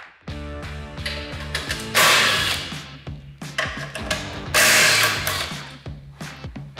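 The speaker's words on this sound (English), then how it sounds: "Remove the two bolts holding the A-arm hardware in place." Bolts come out of the A-arm hardware on a Can-Am Maverick X3, heard as close ratcheting clicks and metallic tool rattles with two longer bursts of whirring impact-driver or air-tool noise.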